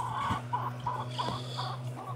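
Chickens clucking on a farm, with a rooster among them, in short repeated bursts over a steady low hum, moderately close and fairly quiet.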